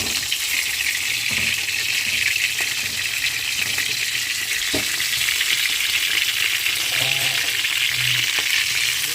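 Brinjals frying in hot oil for a masala brinjal curry, a loud continuous hiss and crackle of oil close up, with faint scattered clinks and no voices.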